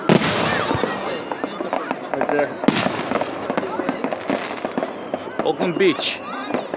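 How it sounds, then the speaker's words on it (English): Fourth of July fireworks in 2022 at Oakland Beach go off in a dense run of cracking bangs and crackles, some close and sharp, with people talking throughout. "2022 fireworks."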